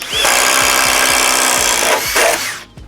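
Flex cordless drill boring through wood with a 3/4 inch Diablo Speed Demon spade bit on a 5 amp hour battery, a loud steady whine and chewing rasp nearly three seconds long that winds down at the end.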